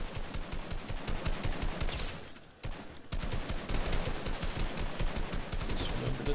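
Gunfire from a Fortnite weapon in a Chapter 2 Season 3 match, dense bursts of rapid shots that stop briefly and then start again.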